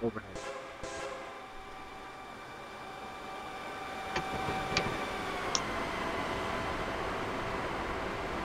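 A train in Train Simulator 2017 sounds its horn in short blasts at the start, then rolls past with a steady, loud rail rumble and a few faint high squeals as it moves along the track.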